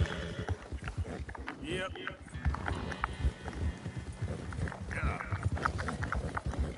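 Horse hooves clip-clop in a steady rhythm through a video game, moderately loud and mixed with other game sounds, while someone talks briefly over them.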